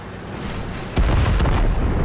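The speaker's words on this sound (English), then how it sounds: "Kaboom, explosive things to run over." Ammo crates blowing up as a tank drives over them in World of Tanks, a sudden loud boom that rolls into a dense, rumbling crackle of blast debris.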